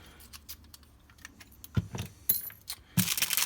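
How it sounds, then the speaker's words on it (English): A metal key scrapes and jangles against a metal padlock, several light metallic clicks and rattles ending in a louder clatter, close up with no voices. "I'm struggling to get the key in"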